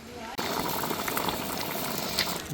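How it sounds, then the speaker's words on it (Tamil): A pot of fish curry with Malabar tamarind bubbles at a steady, vigorous boil, a dense churning gurgle that starts abruptly and continues loud and close throughout. "அந்த குழம்பு நல்லாவே கொதிச்சுட்டு வருதுங்க"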